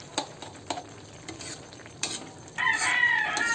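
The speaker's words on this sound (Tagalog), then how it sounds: "haluin natin yan" A spoon stirs sliced green papaya and shrimp with chili in coconut milk in a pot: a few light scraping clicks, then a steadier bubbling sizzle as the mixture is turned, close up with no voices.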